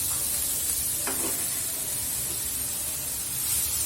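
Grated carrots, three of them, tipped a little at a time into a hot pan for carrot halwa, giving a steady close sizzle with a brief louder hiss partway through, no talking over it.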